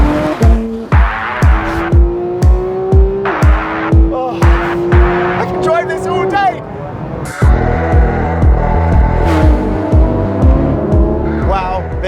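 A Porsche 991.2 911 GT3 RS with a 4-litre engine revs repeatedly to 9,000 RPM, climbing loud and shrill through quick gear changes with sharp drops between pulls. The howl is close and continuous.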